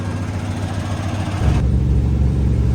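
A semi truck's diesel engine runs steadily, and partway through its sound deepens into a louder, heavier rumble. It carries on loud and close with no talk.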